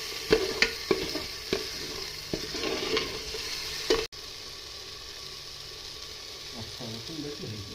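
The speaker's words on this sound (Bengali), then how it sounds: "তো আমরা দিয়ে দিলাম 4-5টা রসুন, গোটা রসুন, এগুলো ফ্রাই করা হচ্ছে।" Four or five whole garlic cloves fry in oil during chicken cooking, a steady close sizzle broken by scraping stirs and clinks of a utensil against the pan, then a quieter hiss after an abrupt cut.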